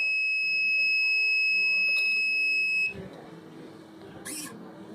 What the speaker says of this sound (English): If we scan this, then alarm active for 3 seconds